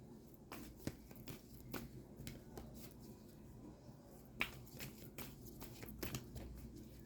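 Tarot cards are shuffled and pulled by hand, giving a series of faint, sharp flicks and soft riffling snaps at an uneven pace against a quiet room.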